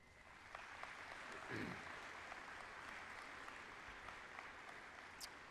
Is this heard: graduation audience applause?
yes